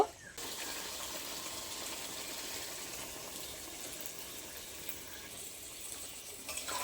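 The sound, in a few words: water poured into pan for curry gravy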